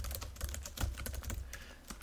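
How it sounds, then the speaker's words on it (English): Rapid, steady clatter of keys on a computer keyboard, close and continuous, with uneven bursts of keystrokes and no talking. "this is the after show, so we have a little more leeway to allow for some typing and stuff"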